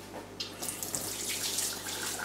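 Water runs hard from a kitchen tap while pots are washed, a close, steady rushing splash with no talk.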